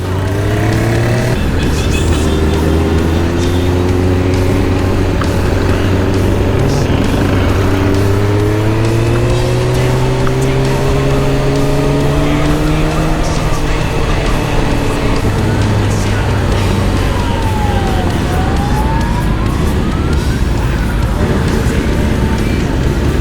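A long procession of motorcycles rolls past on a city street in Bila Tserkva, a loud continuous drone of many engines with rising and falling pitches as bikes pass close by, and no talk.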